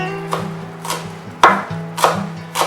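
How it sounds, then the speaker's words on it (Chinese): A kitchen knife chops scallion whites on a cutting board in five sharp, evenly spaced strikes, each one a crisp thud against a low steady hum. "切点葱白"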